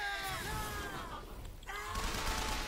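Gunfire in BioShock Infinite comes as a dense, noisy burst of in-game shots and clatter with tonal game effects layered over it, steady and fairly loud across the short stretch, with no clear talking.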